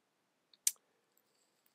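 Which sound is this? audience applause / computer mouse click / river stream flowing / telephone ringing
computer mouse click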